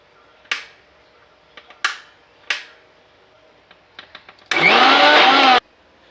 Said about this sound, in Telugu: సో ఇప్పుడు మిక్సీ వేసుకుంటాం